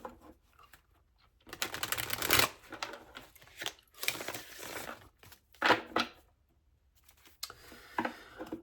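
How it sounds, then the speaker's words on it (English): A deck of cards is shuffled close up, with several bursts of crisp riffling and flapping separated by short pauses. "The deck is shuffling something odd as well."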